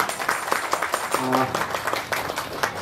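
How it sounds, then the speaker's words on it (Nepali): A crowd at a one-day Christian spiritual teaching gathering claps in a quick, rhythmic burst of applause, loud and close, while a voice talks over it. "परमेश्वरलाई जोरदार ताली सम्मान गरिदिनु होला।"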